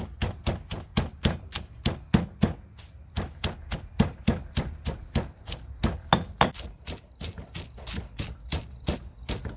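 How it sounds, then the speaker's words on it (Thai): A pestle pounds softened chili and shallot into a fermented-fish chili paste in a mortar: steady, rapid, loud thuds repeating evenly for several seconds, close up with no talking. "โขกเลยนะคะ"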